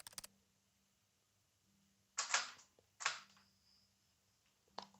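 A Nikon D750 camera shutter fires with flash, giving a few crisp, sharp clicks spaced apart in a quiet room, each short and close with faint ambient hum between.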